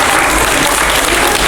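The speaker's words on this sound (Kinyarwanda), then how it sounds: "Yego, mumuha amashyi kwanza." A church children's gathering breaks into loud, close applause, a dense continuous burst of many hands clapping with no speech over it.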